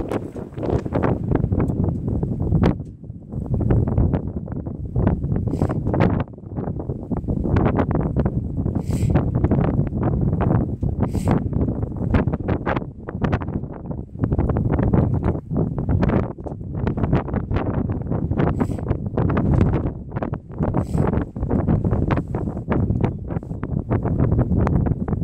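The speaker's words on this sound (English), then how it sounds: "You can see how windy it was." Strong wind buffets the microphone in a constant heavy roar with gusty surges throughout, and no voices.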